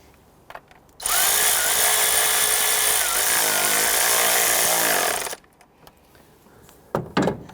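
A power tool tightens the ignition coil bolt on a 2011-2017 Nissan Quest 3.5L V6, a loud continuous whir lasting about four seconds before cutting off, with faint handling sounds around it.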